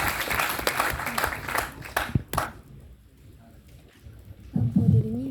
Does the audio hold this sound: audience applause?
yes